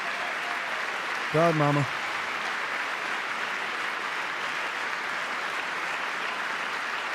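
An audience applauds Trump's address in a continuous, even wash of clapping that runs the whole time, with a short spoken exclamation briefly rising over it near the start.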